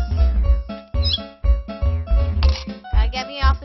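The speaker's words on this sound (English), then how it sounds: "It's a cat." Cartoonish cat meows from the street-performing game Super Busker, several short loud mews in quick succession, mixed with game sounds and a few harmonic chirps.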